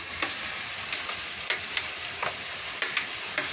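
Tomatoes frying in a pan with a steady hiss, broken by short scraping clicks as a utensil stirs them several times, close and fairly loud, no voices.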